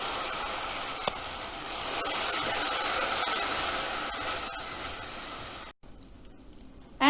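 Tomato paste frying in oil in a pan for egg and potato biryani, a steady loud hiss and sizzle that cuts off abruptly near the end, then resumes.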